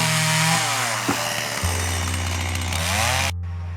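A chainsaw cuts firewood logs, engine loud and close with steady revving that dips as the chain bites into the wood, then cuts off near the end.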